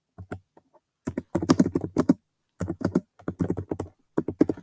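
Crisp keystrokes typed in quick clusters on a computer keyboard while entering text in Google Docs, close by, with brief pauses between bursts of typing.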